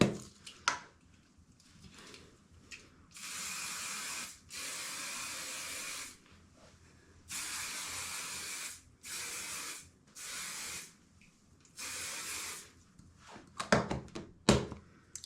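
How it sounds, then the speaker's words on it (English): Herbal Essences hairspray hisses from an aerosol can in a string of long, close bursts of several seconds each, with short pauses and soft handling clicks between them, and no talking. "then I use some hairspray on it"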